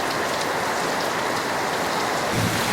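Heavy rain pours steadily in Tampa, Florida, a dense unbroken hiss of drops on surfaces, loud and close, with a faint low rumble near the end and no voices.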